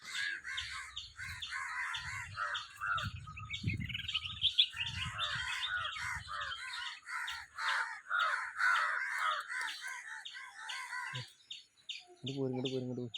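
Several crows caw repeatedly near a house, harsh overlapping calls mixed with other bird chirps, while muffled low voices murmur in the background.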